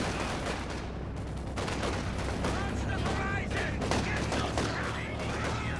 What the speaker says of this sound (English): nice work here from ElTripaSeca, bringing this MG over from this side to assist in the middle